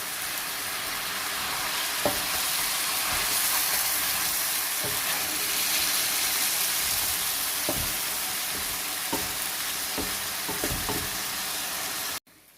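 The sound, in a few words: chicken karahi being fried in a pan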